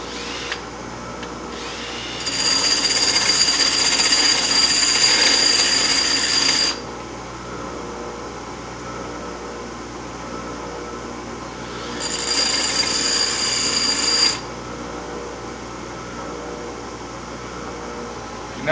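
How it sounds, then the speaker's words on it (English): A center punch sharpened on a bench grinder, a steady high grinding whine lasting a few seconds, a pause of motor hum, then a second shorter grind, fairly loud and close. "Then we walk over to our handy dandy super duper bench grinder."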